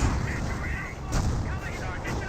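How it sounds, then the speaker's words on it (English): An artillery barrage thunders in a Company of Heroes match, with dense, rumbling booms and sharp repeated blasts layered continuously under a commentator's voice. "Orphan's good eye for a good barrage there"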